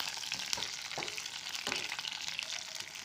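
Kohlrabi pieces, already fried, are stirred back into a pan with ginger and garlic for an Assamese kohlrabi and fish dish. A steady close sizzle runs throughout, with a few scraping stir strokes and no talk.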